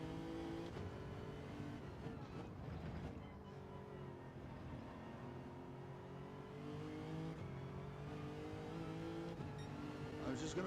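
Race car engine in iRacing at Daytona: a steady, droning engine note with shifting pitch, heard under people talking, fairly quiet throughout.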